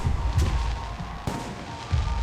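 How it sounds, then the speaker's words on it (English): Fireworks and gunfire in the video game Alpha Protocol: a dense, continuous barrage of booms and crackling bursts with loud low-end thumps at the start and end and a sharp crack midway. "The noise from those fireworks should cover the sound of gunfire."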